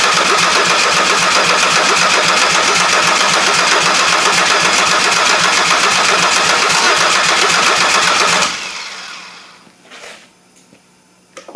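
Engine cranks over steadily after fuel system work, a loud continuous mechanical churn lasting about eight seconds before stopping abruptly, followed by faint clunks and quiet.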